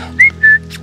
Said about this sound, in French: Si je veux trotter, je vais siffler et le cheval, il trotte.